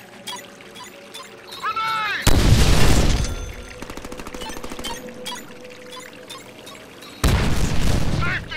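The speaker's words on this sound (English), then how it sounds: "I am throwing a grenade!" Grenade blasts in the Deadpool video game: two loud, broadband booms, the first around the two-second mark with rumbling gunfire-like crackle trailing after it, the second near the end, over game background noise and brief chirping effects.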